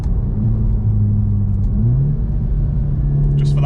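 A Golf GTI MK7.5 fitted with a Remus exhaust rumbles steadily up close, its low engine drone shifting pitch slightly as it revs, with a brief voice near the end.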